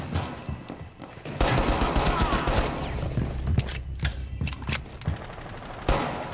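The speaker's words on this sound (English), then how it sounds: "And I'm using a pistol." Pistol fire in a ranked shooter game, a close, rapid series of sharp shots in bursts with short gaps, loud against a busy game background.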